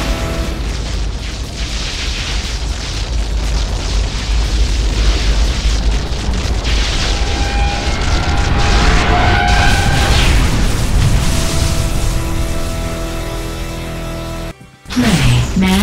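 A massive blue power core blows apart in an Unreal Tournament 3 Warfare match, a loud sustained roaring explosion rumbling and crackling for many seconds before cutting off abruptly.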